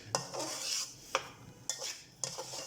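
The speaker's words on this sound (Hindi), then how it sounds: "तकरीबन 10 मिनट तक हम इसे ऐसे हिलाते मिक्स करते हुए पकाएंगे" A spoon scraping and stirring semolina halwa in a pan of desi ghee, with soft gritty swishes and a few sharper clinks against the metal, close and quiet with no voices.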